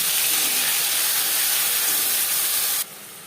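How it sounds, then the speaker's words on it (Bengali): Onion and garlic paste hitting hot refined oil in a wok gives a loud, continuous close sizzle that drops off sharply near the end. "কড়াইতে দিয়ে দিয়েছি দু চামচ রিফাইন্ড অয়েল এবার দিয়ে দেবো পেঁয়াজ রসুন বাটা"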